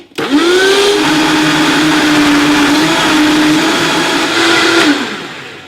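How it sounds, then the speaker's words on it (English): A blender whirs steadily through a cup of ice and a green smoothie with stems and leaves, a loud continuous motor drone with a slight pitch dip mid-run, running alone for about five seconds before cutting off abruptly. "And blend it up for about 90 seconds"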